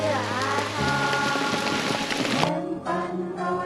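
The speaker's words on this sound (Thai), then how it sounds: "โอ้ยฝนตก" Heavy rain falling with a dense, close hiss over some tonal background sound, cutting back sharply near the end to leave a thinner patter.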